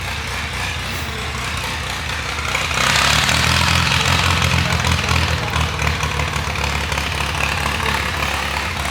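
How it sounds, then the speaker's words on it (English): A heavy McCormick tractor engine running steadily nearby, a deep chugging rumble that swells louder partway through and keeps going. "McCormick started up over there making plenty of noise."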